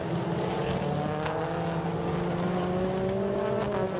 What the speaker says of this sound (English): throws the car round the devil's elbow. He gets back onto the power.